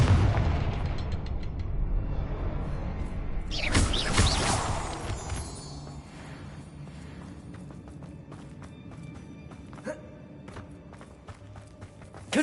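A Confringo blasting spell from Hogwarts Legacy erupts in a loud explosive burst against a dense rumbling, mechanical background, followed by lingering crackling debris.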